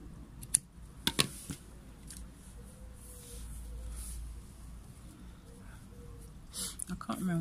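A few sharp snipping clicks of scissors close by, with a quiet rustle between cuts and more snips near the end.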